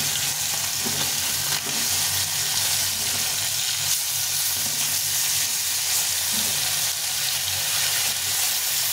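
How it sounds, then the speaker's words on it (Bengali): Small pona fish fry in hot oil in a pan, with a steady, close, continuous sizzle and crackle throughout. No one speaks. "বাকি মাছগুলো এখন ভেজে নেব। মাছগুলো একটু ভালো করে লাল লাল করে ভেজে নেব।"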